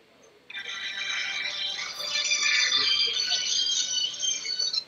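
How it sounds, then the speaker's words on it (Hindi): A mobile phone ringtone plays loudly during a Catan board game among friends, a bright steady electronic melody lasting several seconds with faint voices underneath. "मेरा फोन था"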